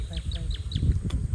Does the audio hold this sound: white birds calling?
yes